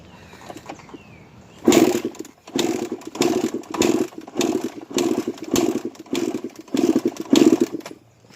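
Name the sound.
Suzuki RM 125 dirt bike engine running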